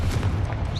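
A Confringo blasting spell goes off in Hogwarts Legacy as a single deep, booming explosion, loud and close with a low rumbling body lasting under a second.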